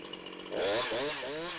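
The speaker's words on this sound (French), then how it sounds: "donnez quelques coups d'accélérateur pour voir comment la tronçonneuse réagit" A Jonsered chainsaw engine idles briefly, then revs up sharply into a loud, buzzing roar that wavers as the throttle is worked.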